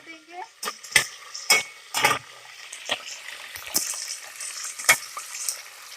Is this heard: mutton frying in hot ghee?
yes